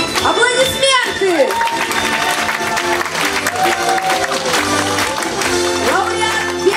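A concert-hall audience applauds a vocal ensemble at a Russian folk song competition gala, with clapping running under a presenter's loud announcing voice and touches of music.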